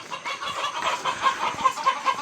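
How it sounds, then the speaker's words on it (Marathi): Caged chickens squawk and cluck in a steady, agitated chorus, several birds calling at once fairly close by, with no talk over them. "मग कोंबड्या बोंबट आहेत"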